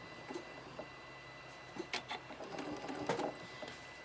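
A sewing machine stitches curved Drunkard's Path quilt pieces in a steady close mechanical whir, with faint ticking and brief fabric-handling rustles.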